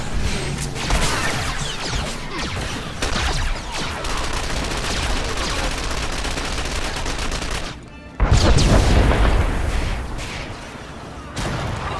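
Players firing at each other in SWTOR make dense, continuous blaster fire, with rapid overlapping shots and crashes. A brief lull comes before a louder burst of impacts, and faint voices sit beneath the barrage.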